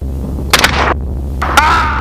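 Gunfire from a helicopter at hogs, two quick bursts of sharp cracks over a steady loud rotor drone, each burst a rapid cluster of shots.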